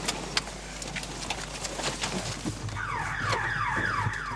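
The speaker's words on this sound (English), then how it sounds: "As the team scales the back walls, it hits an electric fence and triggers the house alarm." A house alarm in Johannesburg goes off after a police task force scaling the back wall hits an electric fence, a repeating sweeping electronic wail rising over steady outdoor noise from a few seconds in.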